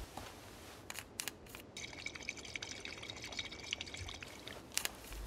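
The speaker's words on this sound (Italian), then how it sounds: "I'll fill up our bottles and I'll catch up with you guys." Water bottles are filled with boiled water in the video game Life is Strange 2; a faint, steady pouring trickle runs throughout, broken by scattered small clicks and drips, with no talking.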